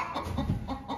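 A chicken in the top of a barn clucks softly nearby, a few short throaty notes in quick succession.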